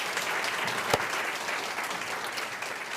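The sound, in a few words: audience applause for co-chairs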